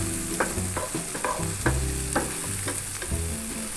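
Sofrito sautéing in a non-stick pan, prepared for paella, with a steady close sizzle and a run of short stirring knocks and scrapes at an irregular pace, no talking.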